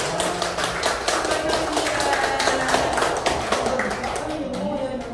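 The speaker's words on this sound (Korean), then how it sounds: "여러분들 따뜻하게 박수 한번 보내주세요." Guests at a Korean first-birthday party in a party hall keep up steady, dense applause for several seconds, a busy patter of many hands, while a voice talks over it.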